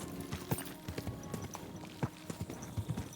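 Horse hooves from the video game Kingdom Come Deliverance 2 clip-clop in a steady walking rhythm, close and moderately loud, with no voices over them.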